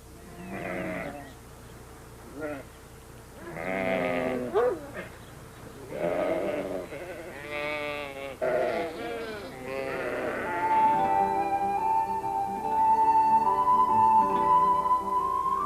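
Sheep bleat repeatedly in short, wavering calls, close and fairly loud, with quieter pauses between them and a longer bleat toward the end.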